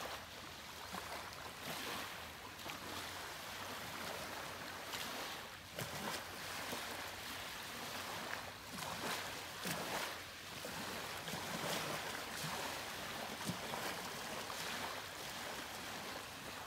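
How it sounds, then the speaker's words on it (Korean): Gentle waves lapping on a small beach in the morning, Goheung, Korea: a steady, soft wash of surf with light wind, continuous and fairly close, no voices. "작은 해변이라 파도마저 잔잔합니다."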